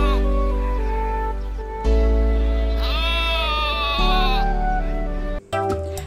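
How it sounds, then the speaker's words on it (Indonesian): Sheep bleat loudly and up close in a long, wavering series of calls, one after another with brief breaks between them and no talking over them. "ini domba"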